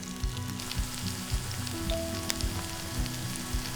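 Mung bean fritters frying undisturbed in an oiled pan, a steady close crackling sizzle with small pops and spits throughout, no voices.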